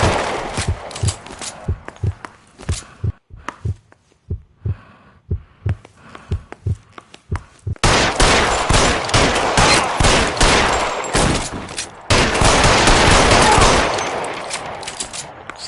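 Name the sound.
gunfire in the video game L.A. Noire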